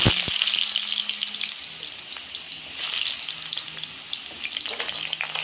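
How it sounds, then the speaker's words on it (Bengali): Potatoes fry in hot oil tempered with black cumin seeds, a steady close sizzle with a sharp clatter at the start and light stirring scrapes throughout, no talking. "এবার আমি সামান্য পরিমাণ কালো জিরে ফোড়ন দিয়ে আলুটা দিই"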